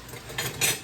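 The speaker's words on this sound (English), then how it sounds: "I'm gonna give that a little bit of a stir in there" Pasta for pizza spaghetti gets a brief stir in a pot, two quick metallic scrapes of a utensil against the side, close and clear over a faint background hiss.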